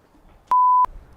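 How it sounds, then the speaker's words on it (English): A single clean electronic beep sounds once, a steady high tone lasting about a third of a second, loud and close against quiet background murmur. "Wait, is something beeping?"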